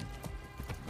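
Horse hooves clip-clopping in the Far Cry 6 video game, a quick run of close, rhythmic thuds with a steady low rumble underneath.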